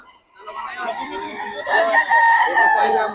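A Boston Roundhead gamefowl rooster crows nearby, loud and drawn-out, with the call rising into a strong, sustained final note.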